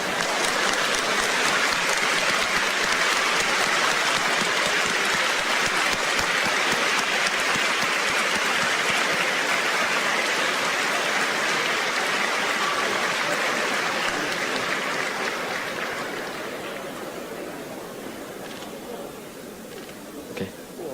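A big banquet audience at the American Chamber of Commerce in Taiwan's dinner applauds President Tsai Ing-wen, a loud sustained ovation that stays full for a long stretch before gradually thinning and fading toward the end.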